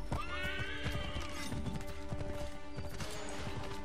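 A horse in Assassin's Creed III whinnies loudly with a rising, shaky call over rapid clip-clopping hooves and game-like clatter, all close and continuous.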